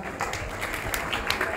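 Audience clapping at a certificate distribution ceremony for a children's camp, a dense patter of many hands at moderate distance, continuing steadily without speech.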